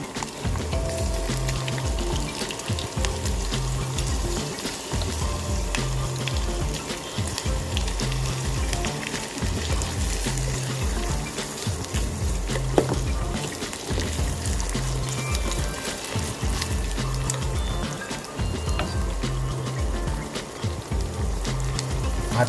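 Carrots and beans fry over low heat in a pan for atta potato momo filling, making a continuous, fairly loud sizzle over a steady rhythmic background beat.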